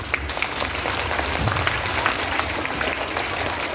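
Students clapping together in a classroom workshop, steady dense applause that holds at an even level for the whole stretch, close and lively.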